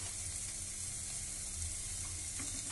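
Chopped tomato sautéing in a pan with salt for paneer butter masala, a steady close sizzle with a few light stirring clicks near the end.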